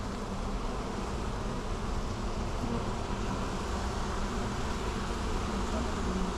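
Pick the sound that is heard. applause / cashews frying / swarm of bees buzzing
swarm of bees buzzing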